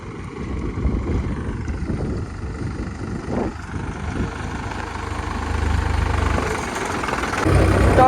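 A tractor's diesel engine idles steadily nearby, a low rumbling drone that swells slightly louder toward the end, with no talk over it.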